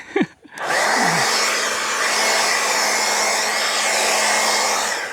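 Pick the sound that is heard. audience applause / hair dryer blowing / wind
hair dryer blowing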